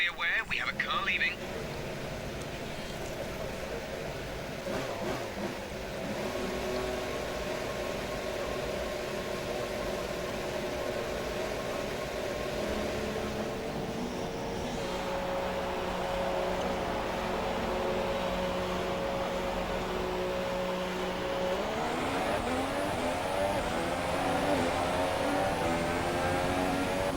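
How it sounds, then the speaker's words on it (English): Haas F1 car in F1 2017 pulling out of the garage in Melbourne, a steady engine whine building and rising in pitch toward the end, with a voice talking over it. "Checks complete. All personnel be aware we have a car leaving."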